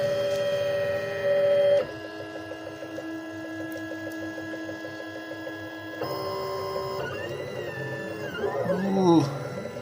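A Weedo Tina 2 3D printer starts a print, humming steadily with rhythmic stepper-motor whirs that shift in pitch and pattern, then rise into sweeping, warbling motor tones near the end, close and clear without talk.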